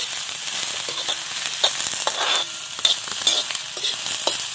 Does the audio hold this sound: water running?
no